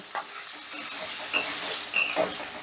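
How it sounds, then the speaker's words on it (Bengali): Chopped tomato stirred in a pan for a vegetarian pointed-gourd dish, giving a soft sizzle with several brisk spoon scrapes and clinks spaced through it, close up with no voices. "এবার টমেটোটাও আমি একটু নাড়াচাড়া করে নেব"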